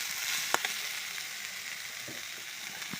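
Water spinach (kalmi shak) frying in a pan, salted and stirred, makes a soft steady sizzle with a few sharp clinks and scrapes of stirring, close and quiet, with no voices.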